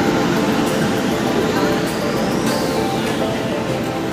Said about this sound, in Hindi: तो ये प्लेटफॉर्म नंबर 3 पर आ रही है हमारी स्वर्ण शताब्दी एक्सप्रेस